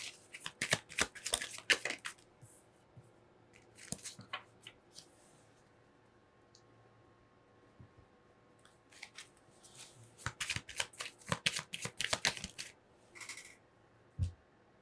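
Tarot cards are shuffled and pulled in two close bursts of crisp riffling and flicking, separated by a quiet pause with a few soft card taps, and a light thump comes at the end.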